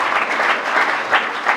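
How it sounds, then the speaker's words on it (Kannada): Applause at a congratulation programme in Haveri for students who passed an army exam and qualified as Agniveers, a crowd clapping briskly and evenly, close and loud, with small swells and no speech. "ಅವರಿಗೆ ಚಪ್ಪಾಳೆ ಅಂತ."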